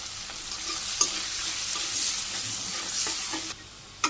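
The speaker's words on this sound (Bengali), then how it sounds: "আলুগুলো প্রথমে ভাজি করে নিই।" Potatoes seasoned with salt and turmeric fry in a pan, giving a steady bright sizzle broken by a few sharp scrapes of stirring near at hand.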